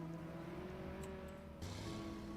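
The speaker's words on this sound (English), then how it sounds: "let's get this semi-truck out of here" A semi-truck engine in Roblox Jailbreak drones steadily in a low hum, with a slight shift in pitch midway, heard alone and fairly close.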